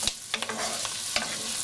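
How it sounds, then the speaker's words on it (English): Shiitake mushrooms frying in a pan are stirred, giving close scraping strokes over a steady sizzle, with a few sharp utensil scrapes and no talk. "Upon which we will add the shiitake mushrooms. And of course, we're gonna give this a nice stir."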